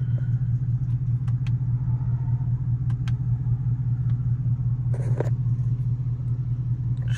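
A Ford Mustang GT cruises with traction control off, its engine holding a steady deep rumble throughout, with scattered light clicks and knocks from inside the car.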